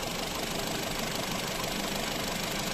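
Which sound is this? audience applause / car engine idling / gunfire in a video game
car engine idling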